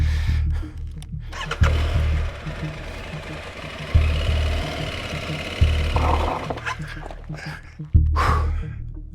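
A motorcycle stuck on rough ground along the Trans Euro Trail in Albania revs loudly in repeated bursts, its engine surging and dropping close by without any talking.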